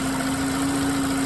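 A 2011-2017 VW Jetta 2.0 liter engine idles smoothly after a camshaft position sensor replacement, a steady loud close-up hum with a constant low drone and no talk.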